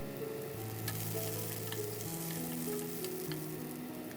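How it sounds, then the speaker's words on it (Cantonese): Shallots and ginger slices stir-fry in a wok over medium-high heat with a little added oil, producing a soft, even sizzle throughout with faint spatula taps, steady and fairly quiet with no talk. "用返同一隻鑊，放紅蔥頭同埋薑片，keep住中大火，補少少油，"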